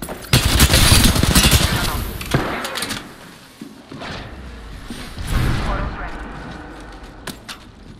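Gunfire from the video game Apex Legends, a burst of loud, dense shots at the start that fades, then sporadic thuds and a second surge under in-game character voice lines.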